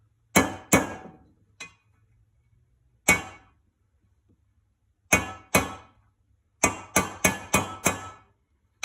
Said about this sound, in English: So I'm just taking a socket, using that to drive it in.